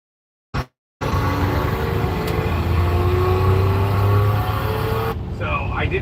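A race car engine runs on a dyno with a loud, steady low drone and a chugging, slipping organic clutch, the sound sustained for several seconds after a brief bump, then cutting to a different texture near the end.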